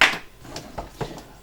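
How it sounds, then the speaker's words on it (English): Chunks of yam tossed into a pot of Nigerian ukodo yam peppersoup land with a few soft, close knocks and plops, spaced irregularly over a quiet background. "Just going to throw the yam inside."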